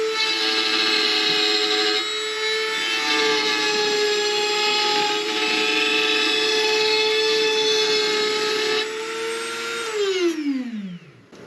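A plunge router cuts a rosette channel into wood, a loud steady high-pitched motor whine with a dense cutting buzz running unbroken for about ten seconds, then spinning down in a falling tone as the bit stops.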